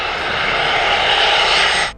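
A loud, steady roar from the engine of an Embraer Legacy 500 private jet holds evenly for about two seconds, then cuts off abruptly.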